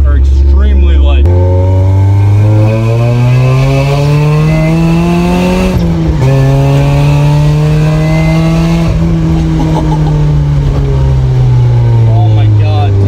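A supercharged 1991 Mazda Miata with a 1997 M Edition drivetrain swap revs hard and close, its engine note climbing through a long pull, dipping briefly at a shift, then holding a loud strained pitch.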